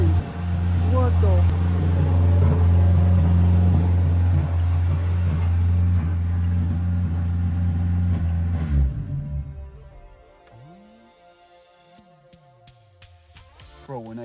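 A BMW E30 engine running rough and misfiring, a loud, close, uneven rumble that chugs steadily for several seconds and then cuts out into near quiet with a few small clanks.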